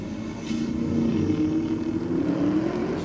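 Race cars roll racing side by side at night, a Datsun drawing alongside a VF Commodore, their engines a loud steady roar with a rising whine held throughout.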